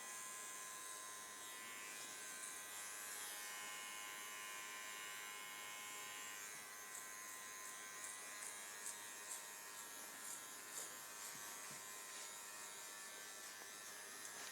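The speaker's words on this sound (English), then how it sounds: "So my clipper's fully on here, going up and coming off for the top." An electric hair clipper hums steadily while cutting a skin fade. Its quiet, continuous buzz carries on with small shifts in tone as the clipper moves up and off the head.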